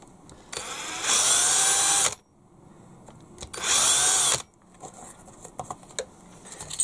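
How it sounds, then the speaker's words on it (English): A power drill with a 3mm bit bores through a part for a Bruder low loader RC conversion in two loud whining bursts of about a second each, followed by small clicks and handling noises. "go through with a 3mm bit and then countersink it on the other side"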